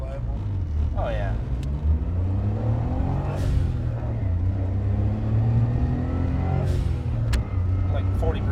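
A 1996 Suzuki Jimny kei SUV engine pulls at moderate throttle from inside the cabin, a steady rising drone that shifts around 5,200 RPM, with someone talking over the engine throughout.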